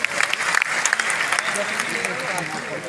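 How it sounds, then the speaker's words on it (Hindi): An audience at a gathering in Patna claps in dense, lively applause that fills the whole stretch at close range, with voices mixed in beneath the clapping. "एक बार सर के लिए जोरदार तालियां"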